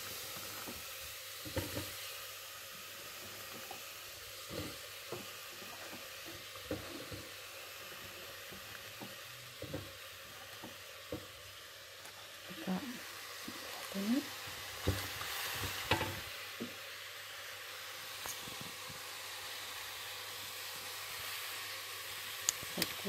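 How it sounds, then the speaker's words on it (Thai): Mushrooms and garlic stems stir-fry in a pan with a low steady sizzle, with intermittent scrapes and clicks of stirring scattered throughout, fairly quiet and close, no talking. "พอต้นกระเทียมหอมสุกเรียบร้อยแล้วก็ใส่เห็ดเข้าไปผัดไปด้วยกัน"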